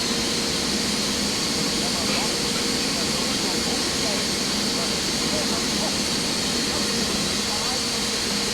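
Airbus A319 jet engines in Prepar3D spool up for takeoff as a steady, dense roar and hiss that stays constant and loud throughout.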